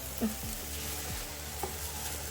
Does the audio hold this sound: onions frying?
yes